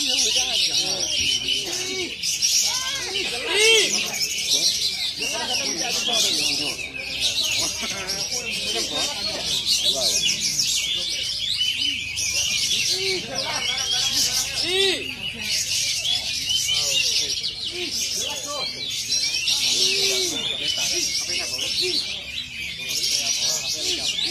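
Birds chirp and tweet busily throughout, high and close, with lower cooing mixed in and people talking underneath.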